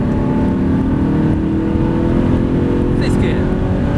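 Audi R8 engine droning steadily under acceleration on a race track, a loud continuous interior hum with a faint rising whine, while an instructor talks over it.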